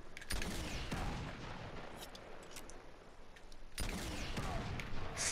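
Gunshots from the Uncharted 2: Among Thieves video game, with sharp bursts at the start, around one second and near four seconds over a steady noisy bed of in-game action.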